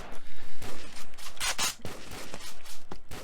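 Counter-Strike 2 gunfire: a rapid string of sharp shots and bursts, loud and close, with clicks and movement noise between them.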